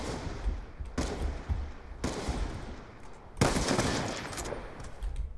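A decoy grenade in the video game Black Ops 2 mimics gunfire, producing several separate bursts of rapid automatic shots with pauses between them, fairly loud and unaccompanied by talk.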